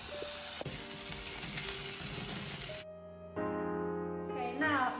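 Bacon fries in a pan with a steady, hissing sizzle that cuts off abruptly partway through, after which tonal background music carries on.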